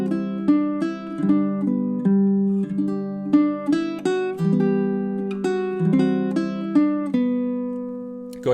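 Baritone ukulele picking a chord-melody arrangement of Danny Boy, measures nine through eleven: plucked chords and melody notes ring out in a steady, unhurried rhythm, close and clear with no voices.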